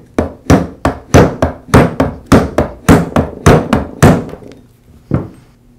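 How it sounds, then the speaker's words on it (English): A rubber mallet taps a Porter Cable 690 series router armature back into its motor housing. About a dozen close, sharp knocks come in a quick, fairly even run, then a short pause and one last tap. "use a rubber mallet to tap it back into place"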